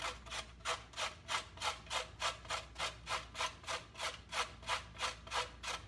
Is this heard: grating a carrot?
yes